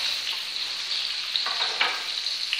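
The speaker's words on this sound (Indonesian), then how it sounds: "Kita masukkan bawang putihnya dan cabai romboknya." Garlic and chili hit hot oil in a pan for fried rice, giving a loud, steady, hissing sizzle with a few brief crackling bursts and no voices.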